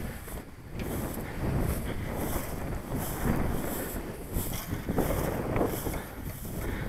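Strong wind blows across an open field where a model RC glider is being trimmed, a constant roaring rush with gusty buffeting against the microphone, loud and continuous with no voices.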